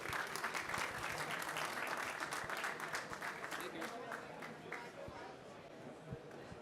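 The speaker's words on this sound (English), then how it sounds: "Please do join me in a round of applause for our panelists." Audience applause for a panel at an energy infrastructure event, a dense steady wash of many hands clapping that holds for several seconds and eases slightly toward the end, with some crowd noise underneath.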